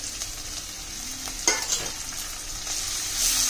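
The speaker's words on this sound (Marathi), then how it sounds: "टोमॅटो अर्धा कापून घेतलेले ते टाकते मी" Halved tomatoes dropped into masala frying in a pan for a drumstick curry, a steady sizzle with a sharp burst as they land and light stirring, close and fairly loud.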